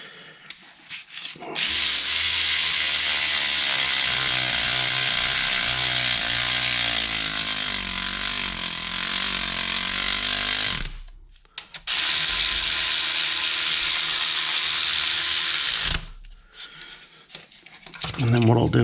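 Rapid clicking of a ratchet tightening bolts during a cam belt replacement on a Ford Escort Cosworth, in two long close bursts split by brief pauses.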